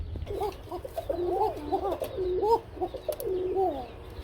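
Pigeons cooing nearby in repeated soft, rolling calls that overlap one another, with faint background noise.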